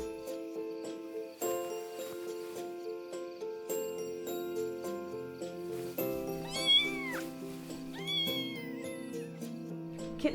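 A kitten at an animal shelter meows several times in high, rising calls over steady background music, most clearly in the second half.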